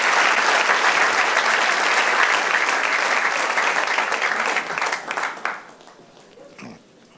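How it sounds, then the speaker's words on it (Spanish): Church congregation applauding, dense loud clapping that rolls on for several seconds and then tapers off quickly into a few scattered claps and near quiet. "Den un aplauso al Señor."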